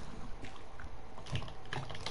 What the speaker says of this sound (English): I'm playing on keyboard and mouse.